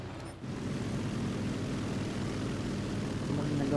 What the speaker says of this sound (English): Now we're going to be playing with a dive bomber.